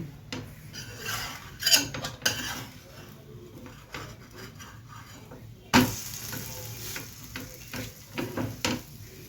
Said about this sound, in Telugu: ఈ అట్లు తీపట్లు ఒకవైపు కాలింది దీన్ని రెండో వైపు తిరగవేసుకుందాము